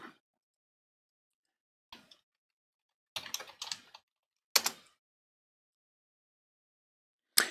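Short, quiet bursts of typing on a computer keyboard, a few isolated keystrokes then clustered clicks separated by silent gaps, close and alone.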